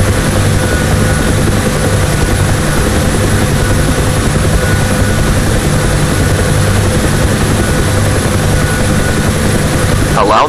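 UH-1 Huey helicopter hovering in the DCS World flight simulator game, a loud, continuous rotor and turbine drone with steady blade chop throughout, cutting off abruptly at the end.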